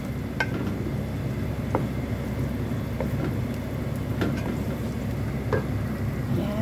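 Tomato paste stirred into chicken caldereta in a pan, a continuous close sizzle and bubbling simmer with soft scattered scrapes and taps of the spoon, steady throughout.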